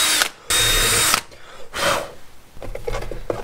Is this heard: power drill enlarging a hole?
yes